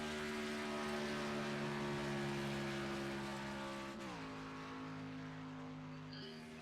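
A stock car on a qualifying run at Daytona drones steadily at high speed, its engine note sliding slightly lower partway through as it carries on around the track, loud and continuous with no talking.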